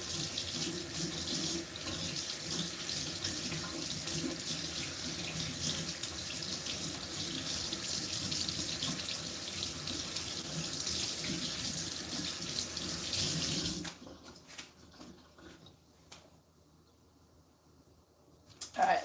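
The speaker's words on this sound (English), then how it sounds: "I'm gonna wash my hands." Kitchen tap running steadily into a sink while hands are washed, a loud continuous hiss and splash for about fourteen seconds before the water shuts off, leaving faint rustling and clatter.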